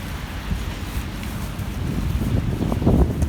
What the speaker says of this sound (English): so it's a little windy outside